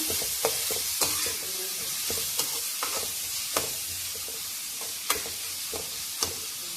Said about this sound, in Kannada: ಮತ್ತು ಈರುಳ್ಳಿ, ಕರಿಬೇವು, ಮೆಣಸಿನಕಾಯಿ ಎಲ್ಲ ಹಚ್ಕೊಂಡಿದ್ದೀನಿ. ನೋಡಿ ಈ ಥರ ಚೆನ್ನಾಗಿ ಫ್ರೈ ಮಾಡೋಣ.